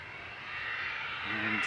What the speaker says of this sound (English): So more A330 noise coming shortly